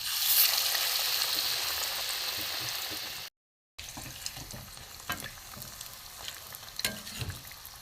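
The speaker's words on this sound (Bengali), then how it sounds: "আঁচ কমিয়ে কমিয়ে ভাজতে হবে" Besan-battered vegetable chops deep-fry in hot oil with a steady close sizzle and bubbling, broken by a brief silent gap, then continuing with scattered pops and crackles.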